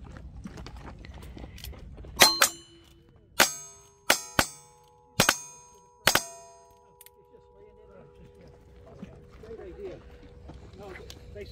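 Cowboy action shooting match: six sharp gunshots in quick succession, each followed by the bright, ringing clang of a hit steel target that hangs and decays, then quieter ambient range noise and distant voices.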